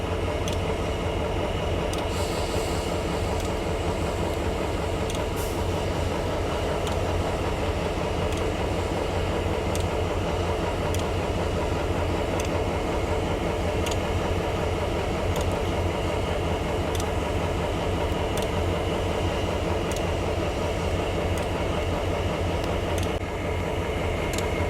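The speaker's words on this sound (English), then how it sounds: "I think that's probably one of them 16-cylinder prime mover two-strokers in them yet." An EJ&E SD38-2 diesel locomotive with a 16-cylinder two-stroke prime mover rumbles steadily and loudly throughout, a continuous deep drone with faint ticking above, no voices.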